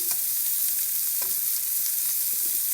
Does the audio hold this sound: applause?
no